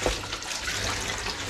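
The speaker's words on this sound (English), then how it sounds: "I'm just going to give them a quick rinse" Running tap water rinses two 20-inch cake tins in a kitchen sink, a steady close splashing rush that fills the whole moment without any talking.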